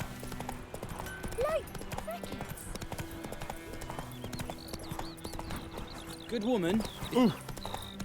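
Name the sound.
horse hooves clip-clopping in a video game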